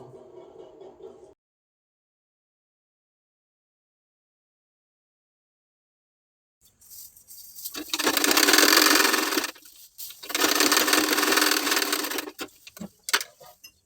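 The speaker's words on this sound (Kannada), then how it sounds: "ಅಲ್ಲಿ ಫಸ್ಟ್ ನಾವು ಲೈನಿಂಗ್ ಹಚ್ಚಿ ಸ್ಟಿಚ್ ಮಾಡ್ಕೊಳ್ಬೇಕು." A sewing machine runs in two long bursts of stitching, lining sewn onto sleeves, loud and close after a stretch of near silence, with a short earlier sound at the start.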